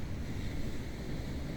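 Rough ocean surf on the Gaspé coast with strong wind buffeting the microphone, a dense, continuous roar of waves and gusts with no voices.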